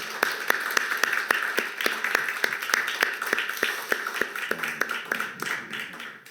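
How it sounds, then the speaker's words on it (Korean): Church congregation claps in steady, evenly spaced beats, loud and near, a rhythmic unison clapping that continues for several seconds before thinning out toward the end, with a faint voice underneath. "하나님께 우리 박수로 영광을 돌립시다"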